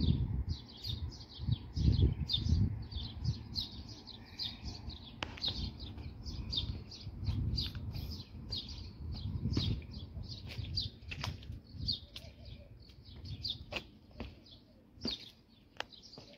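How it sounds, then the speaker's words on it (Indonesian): Many birds chirp in a constant busy chorus in trees on a mountain near Mecca, mid-distance, over a low rumble of wind and occasional rustling. "dan banyak sekali burung-burung yang bermain di sini"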